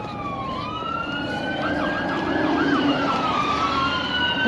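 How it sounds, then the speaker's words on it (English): Emergency vehicle sirens wailing along a city street in Montclair, California, several overlapping tones sweeping up and down, growing slightly louder over traffic rumble, with no talk. "More sirens, who would have guessed it?"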